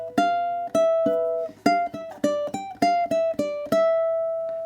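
A ukulele plays a stretch lick from a song, a clear sequence of plucked notes and chords with one long ringing note at the end, played alone.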